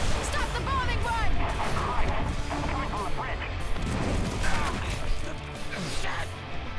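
Bombing-run explosions in the Left 4 Dead 2 game: dense, continuous loud blasts and crashing impacts over a roaring background, with shouting voices mixed in throughout.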